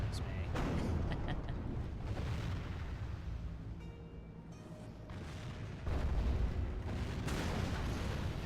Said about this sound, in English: my cannon towers are missing a lot, and that concerns me.